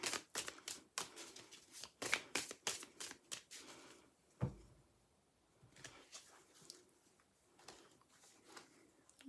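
A deck of reading cards is shuffled in a series of quick, close papery riffles and flicks, pausing briefly before more light shuffling, with faint voice in the background.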